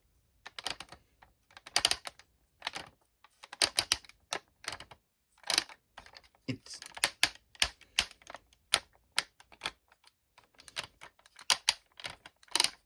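Joints of a Transformers Siege Omega Supreme toy ratchet as its parts are lifted, giving sharp, close plastic clicks in irregular bursts against near silence.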